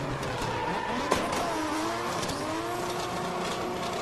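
A drift car in a car park competition revs hard at a steady, moderately distant level, with engine tone rising and falling and tyre noise mixed into the continuous roar.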